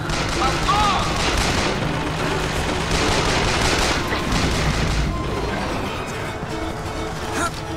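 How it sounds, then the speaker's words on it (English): Rapid bursts of modified assault rifle fire in the shooter game BioShock Infinite, loud and dense with booming impacts and chaotic battle noise, continuous for several seconds. "not a submachine gun, but a modified assault rifle"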